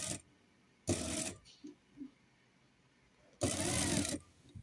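A sewing machine stitches folds in fabric in a tailoring shop, with two loud bursts of rapid whirring about a second long, separated by quiet pauses holding a couple of faint clicks.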